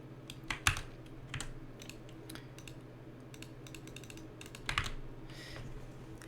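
Keys clack on a computer keyboard during game damage calculations: soft, faint typing in scattered short bursts, with a few sharper clusters of keystrokes and no voices.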